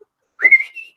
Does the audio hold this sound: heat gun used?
no